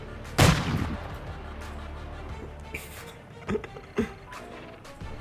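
A loud, sharp gunshot rings out, followed by a few fainter distant shots and cracks against a low background rumble.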